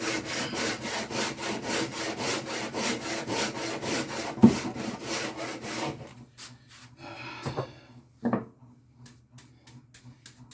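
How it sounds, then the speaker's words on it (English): A Shinto saw rasp strokes steadily along a pine bass neck blank in a fast, even rhythm of rasping scrapes, close and loud, then stops and leaves a few scattered knocks and handling sounds. "I love the Shinto saw rasp."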